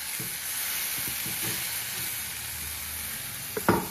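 Chicken marinated in turmeric and salt fries in a hot pan with a close, steady sizzle. Intermittent stirring scrapes through it, and a louder clatter comes near the end.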